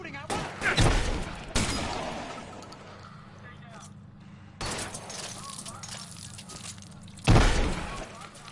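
Gunfire in a shootout in L.A. Noire, several loud, sharp bursts of shots with glass shattering, spaced a few seconds apart, with people talking between them.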